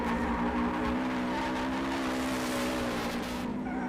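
Ken Block's Gymkhana rally car drifts hard at speed, its engine roaring steadily under a long, continuous tire squeal that sounds loud and close throughout.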